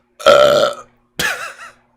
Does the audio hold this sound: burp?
yes